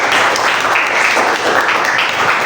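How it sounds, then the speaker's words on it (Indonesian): A classroom of children claps for a student named Rangga during a school teaching lesson; dense, close, continuous clapping that stays level throughout. "Tepuk tangan untuk Mas Rangga."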